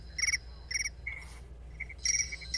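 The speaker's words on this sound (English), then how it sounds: "I always use crickets as my ringtone" A crickets-chirping phone ringtone plays in short repeated bursts, quiet and close, a few trilling pulses separated by brief pauses.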